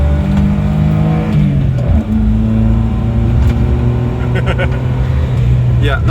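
A 1996 Suzuki Jimny with a K6A engine accelerates, its engine drone rising and straining steadily from inside the cabin, loud and continuous, with a voice speaking over it.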